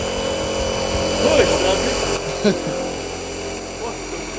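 A cobalt drill bit boring a hole into a metal roof, a steady whining drill tone running throughout, close and fairly loud, with a couple of brief louder bursts and short spoken remarks over it.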